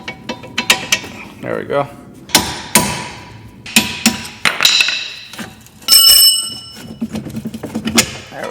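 Sharp metal hammer blows knock parts out of a car's steering knuckle during a lower ball joint and strut job, in an irregular series of loud, close strikes with some clanking and a brief spoken phrase.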